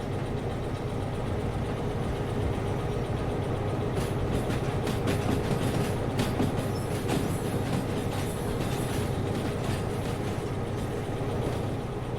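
A train runs steadily in the Derail Valley VR game, a continuous rumbling engine drone with rolling wheel noise and faint clicks and rattles, close and even throughout, with no talk.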